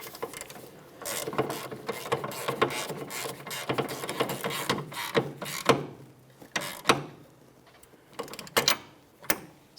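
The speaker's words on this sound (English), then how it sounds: "Snug that nut and torque it to 35 foot-pounds" Ratchet wrench tightening and torquing a nut on a rear upper control arm of a 2003-2007 Honda Accord, rapid clicking pawl strokes up close, then a few separate louder clicks and pauses.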